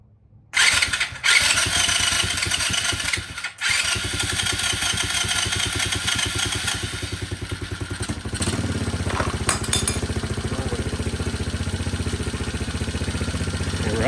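A KX 60 dirt bike engine swapped into a Tao Tao mini quad cranks and fires up loudly, then settles into a steady, buzzy two-stroke idle close by with a brief dip and rev change along the way.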